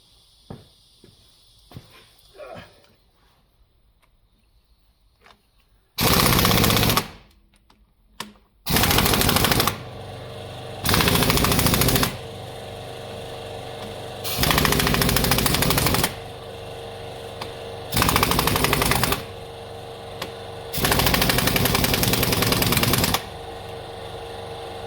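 Perkins 4.270 diesel engine fitted in a Fordson tractor, heard in repeated loud bursts of clattering running, several seconds each, broken by near-silent gaps, with faint knocks and shuffling before it starts.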